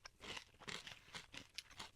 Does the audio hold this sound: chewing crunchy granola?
yes